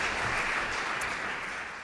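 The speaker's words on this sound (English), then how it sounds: "Let's give Lee a round of applause." A church congregation applauds for someone named Lee, with loud, full clapping sustained evenly through the short burst.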